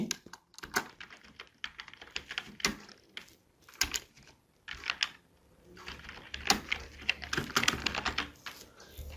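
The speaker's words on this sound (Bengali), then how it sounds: "ক্লিক করার পর আমরা এখন এখানে টাইপ করব দেখেন আমরা লিখছি" Bengali text typed on a computer keyboard, rapid clicky keystrokes in uneven bursts with short pauses between them, close and clear with no speech.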